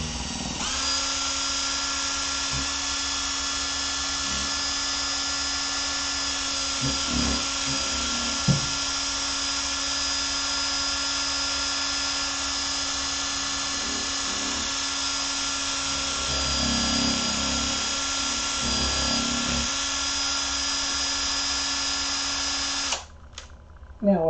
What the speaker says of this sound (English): now I'm going to use my drill, and I'm going to mix until I can't see any strands of resin